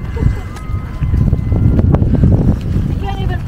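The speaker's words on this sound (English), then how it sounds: "It's cold and windy." Cold, gusty winter wind in Alaska buffets the microphone with a steady low roar, rising and falling over a few seconds.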